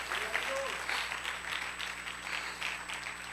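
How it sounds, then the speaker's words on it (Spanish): A church congregation applauds steadily, a dense wash of clapping with a few voices mixed in under it. "Denle un aplauso y denle gloria a Dios."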